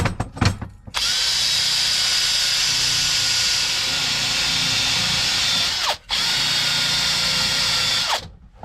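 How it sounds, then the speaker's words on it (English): A Harbor Freight wire wheel spins on a power tool and scours metal with a loud, steady, close-up whir and hiss. It briefly cuts out near the six-second mark before spinning back up, and no voices are heard. "Harbor Freight wire wheel."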